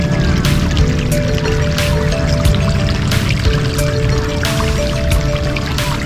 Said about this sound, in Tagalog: Doon mismo sa ilalim ng lupa lumalabas yung tubig,